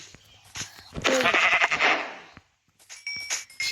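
Sheep or goats bleat in short, wavering cries, several calls in a few seconds, fairly close, with a voice talking over and between them.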